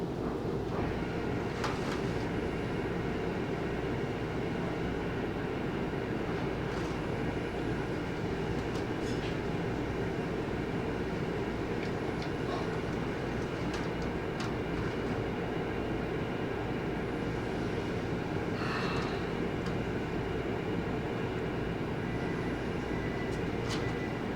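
A Mantua model railroad locomotive runs along the track with a continuous close rumble and clatter of small wheels that holds steady throughout, with faint clicks and no talk.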